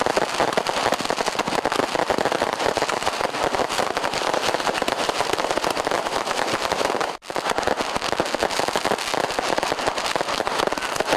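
New Year fireworks at Lapangan Puputan Badung in Denpasar, Bali crackle and pop in a dense, continuous barrage of rapid bursts, loud and unbroken apart from one brief gap.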